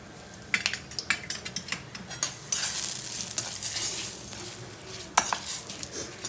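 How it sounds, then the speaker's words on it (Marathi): Turmeric and curry leaves stirred in hot oil in a pan, a steady sizzle with repeated scraping and clinking strokes of a spoon against the metal, close and fairly quiet, with no voices. "आता हळद घालूया आपण."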